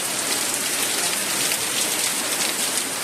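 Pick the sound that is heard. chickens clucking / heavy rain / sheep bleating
heavy rain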